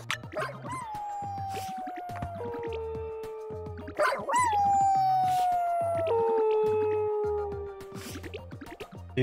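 A cartoonish dog in the video game Wobbledogs barks and howls, two long sliding yowls with sharp yips at their onsets over a repeating low musical backdrop, loud and close.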